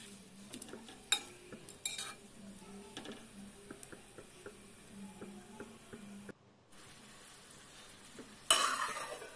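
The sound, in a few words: frying and stirring ingredients in a pan for fish curry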